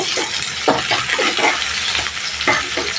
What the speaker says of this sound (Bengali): কুচানো পেঁয়াজ বেশি করে দিয়ে দিলাম পেঁয়াজটা একটু ভাজা ভাজা করে নেব